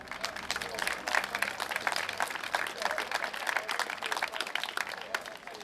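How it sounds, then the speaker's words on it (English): An outdoor crowd in a town market square applauds during a sixties-themed street event, a moderate scatter of clapping hands with fairly distinct claps, fairly close and steady. "So let's have some applause for the Downham Chamber of Trade."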